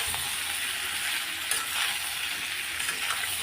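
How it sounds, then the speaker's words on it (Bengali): Papaya and potato frying in a pan make a constant close sizzle with faint stirring scrapes, steady and even in level, with nobody talking. "এবার একটু ভেজে নিয়ে তারপর মশলাগুলো দিয়ে দেবো একটু ভেজে নেবো"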